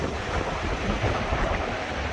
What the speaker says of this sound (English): It's pretty darn windy.